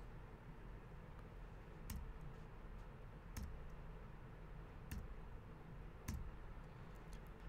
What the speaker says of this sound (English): if I hit the backslash key on my keyboard